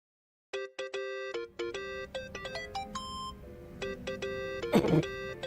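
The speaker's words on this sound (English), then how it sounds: "Think that's your phone, man." Mobile phone ringtone in Yakuza: Like a Dragon, a bright repeating electronic melody of clipped tonal beeps that rings steadily for several seconds over a low in-game ambient hum.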